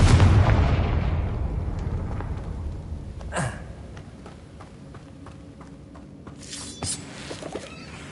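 A Confringo fire spell blast in Hogwarts Legacy, heard as a sharp burst near 3.4 seconds over a busy game soundscape of rumbling and clattering, followed by more crackling impacts later.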